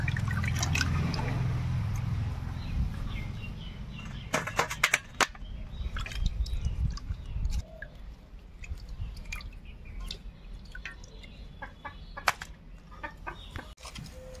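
Live snakehead fish being washed in water, with wet splashing, dripping and handling clatter, a dense rush early on easing into scattered drips and taps, near and alone with no talk.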